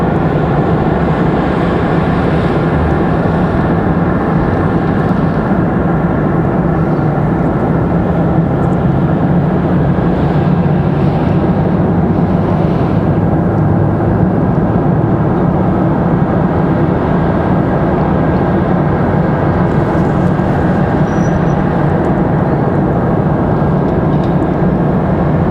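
A Republic Airways airliner from JFK rumbles at Raleigh-Durham airport, a steady broadband engine roar holding for the whole stretch without pause, fairly loud and unbroken with no voices.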